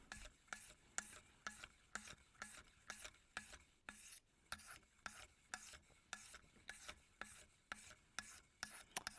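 Magnus broadhead arrow tips being sharpened, a quick steady run of rasping file strokes, about two a second, close and even in rhythm.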